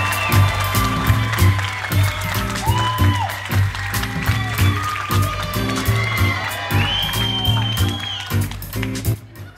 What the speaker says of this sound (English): clapping and screaming, please welcome my high school teacher